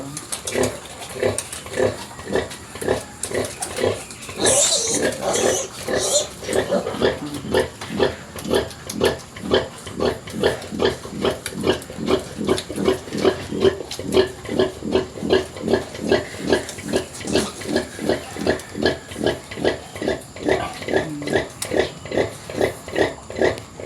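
Pigs grunting while piglets nurse on a farm: a rapid, rhythmic series of soft, close grunts repeating steadily for the whole stretch, with a few higher squeals early on.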